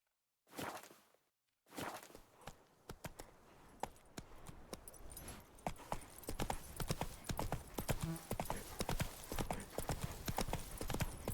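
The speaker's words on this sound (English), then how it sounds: "Whoa there, Roach." Hooves of the horse Roach clip-clopping steadily in the video game The Witcher 3, a close, rhythmic walking gait of sharp repeated hoof strikes that quicken and grow denser after a brief quiet start.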